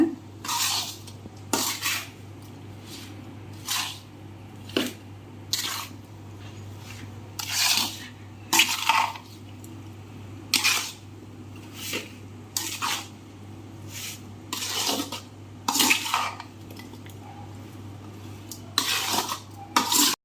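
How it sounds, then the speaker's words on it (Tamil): Mango pickle stirred in a pan after hot oil is poured in, with intermittent scraping strokes of a spoon against metal recurring irregularly over a low steady hum, close by and with no talking. "இப்போ எல்லாத்தையும் நல்லா கலரி கொடுங்க"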